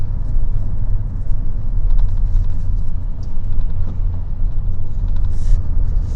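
Inside a Toyota Tacoma pickup with over 213,000 miles, a steady low engine drone and road rumble carry on without a break while the truck drives through traffic, with faint rattles above.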